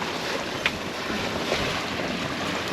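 Steady wind roars and buffets across open Caribbean water about 6 miles offshore, with a faint wash of waves beneath and no voices.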